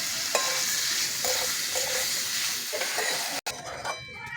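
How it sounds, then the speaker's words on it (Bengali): Chicken meat stir-fried in a pan for ghugni, a steady close sizzle with scraping stirring touches, continuous and fairly loud throughout, ending in a brief break before the frying resumes. "একটু নেড়ে ছেড়ে ভেজে নেব"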